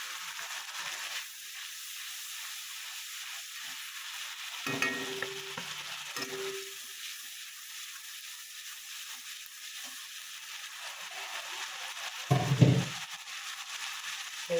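Ground turmeric, cumin and coriander go into a frying pan that already holds ginger paste for egg curry, giving faint sizzling under soft stirring scrapes, with a couple of brief louder clinks of the utensil.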